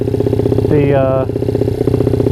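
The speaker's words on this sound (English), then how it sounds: "overall bike seems to be doing okay. It's idling great" A small Honda CRF dirt bike engine idles steadily throughout, with a continuous low chugging and a brief higher-pitched whine partway through; talk is mixed in.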